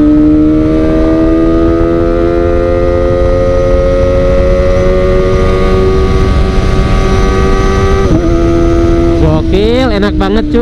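A modified Kawasaki Ninja ZX25R engine screams loud and close while riding, a steady high-pitched four-cylinder wail that shifts pitch near the end as the revs change.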